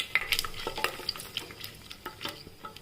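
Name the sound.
almonds and whole spices sautéed in ghee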